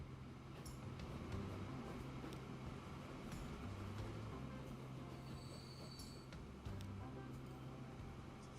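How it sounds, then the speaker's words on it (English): Several trains in Transport Fever 2 run up and down a rail line, giving a quiet, continuous rumble with scattered wheel squeals and clicks, while someone talks over it at times. "So we've now got lots of trains running up and down this line."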